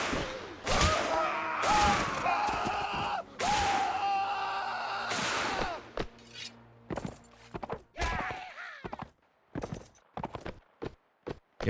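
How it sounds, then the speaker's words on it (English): Gunfire crackles through an American Civil War battle in Mount & Blade Warband, with sharp, loud shots in uneven bursts that become scattered single cracks, mixed with tonal battle noises early on. "they are shooting at me from behind"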